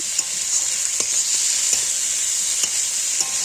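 Chopped tomatoes with chilies and cumin sautéing in a pan, a loud bright hiss of frying oil up close, broken by a few light scrapes of a stirring spoon.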